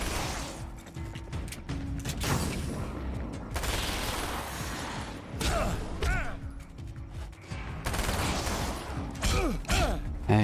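Gunfire in the Alan Wake American Nightmare action game comes in irregular bursts of sharp shots and clatter, loud and close, with mechanical clicks and short gaps between volleys.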